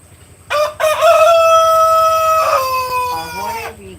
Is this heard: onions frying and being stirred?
no